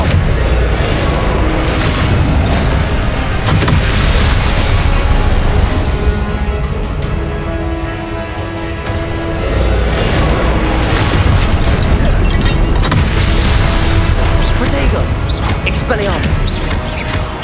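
Repeated Confringo blasting-spell explosions in Hogwarts Legacy during combat, loud booming bursts and crashes layered over a dense, continuous battle din throughout, with voices mixed in among the blasts.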